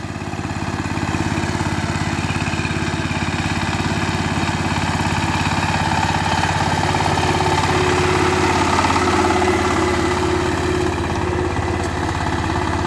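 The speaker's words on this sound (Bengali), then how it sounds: "এত শক্ত মাটি শক্ত মাটি তারপরও গাড়ি ধরতেছে ক্ষমতা কিন্তু ইঞ্জিনে ধোঁয়া নাই" A farm tractor engine labors steadily while pulling a 28-tine plough through hard, dry soil, a loud, continuous mid-pitched drone that holds level for the whole stretch with no talk.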